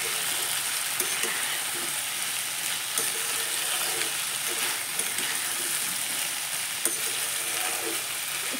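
Tender pointed gourd and small fish cooking in a pan on a low flame, a steady bright frying hiss with occasional soft stirring scrapes and light clicks close by.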